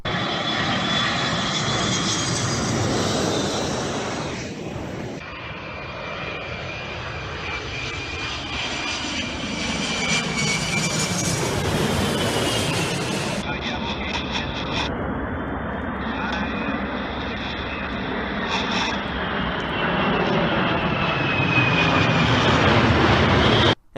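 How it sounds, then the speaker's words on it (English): Firefighting planes drop material on wildfires, their engines roaring loud and sustained as aircraft pass overhead, with propeller drone rising and falling over the whole span. "Here are some videos of planes releasing material that'll help prevent and put out"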